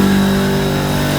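An air compressor runs loud and close in a backyard shop, a steady droning motor hum with a strong low tone that holds without a break.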